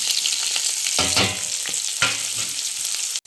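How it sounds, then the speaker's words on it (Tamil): Onions are added to hot oil with cinnamon, cloves, cardamom and fennel and sauté loudly in a pan, a close, continuous sizzle with sharp crackling bursts as they are stirred. "வெங்காயத்தை போட்டுக்கலாம்"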